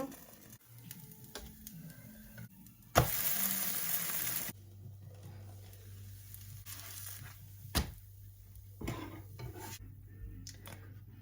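Dosa batter sizzles and fries in sesame oil on a covered pan with a steady, soft crackle. A brief louder hissing burst comes early on, then quieter frying continues with occasional light clicks.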